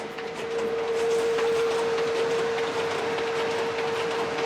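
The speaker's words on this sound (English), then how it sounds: "This is the sound of real printing." An HP Indigo 100K industrial digital printing press runs steadily with a constant mechanical hum, a thin sustained tone and fast rattling texture, moderately loud and unbroken.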